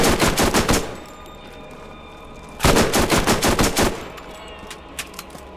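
Bursts of gunfire from a slow-firing Tediore gun in Borderlands, two dense volleys of rapid shots about two seconds apart, loud and close, with a few faint trailing pops after.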